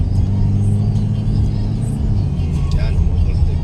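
A car overtaking on a road, heard from inside as a loud steady engine rumble and road whir, with a voice speaking over it.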